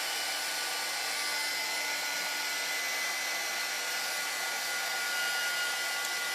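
A hair dryer runs continuously at close range to dry some items, a steady loud airy whoosh that stays level from start to finish.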